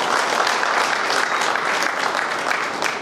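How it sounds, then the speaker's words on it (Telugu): A crowd at a police veterans' association gathering claps for its volunteers: steady, full applause from many hands, close and loud throughout. "మరి వాళ్ళ గురించి ఒక్కసారి క్లాప్స్ కొట్టాలి."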